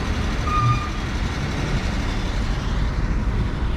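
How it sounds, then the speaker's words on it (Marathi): A truck rumbles past on a highway with a steady, loud motor and road noise, and a brief high beep sounds early on. "ट्रक."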